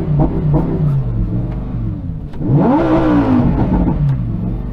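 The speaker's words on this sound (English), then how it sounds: "Gives you a soft limiter, then revs all the way up." A loud engine rumbles, then revs sharply upward to a high, held pitch before easing back down, close and steady throughout.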